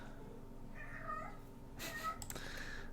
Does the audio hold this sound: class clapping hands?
no